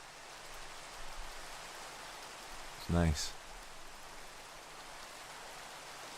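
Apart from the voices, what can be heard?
rain in Minecraft video game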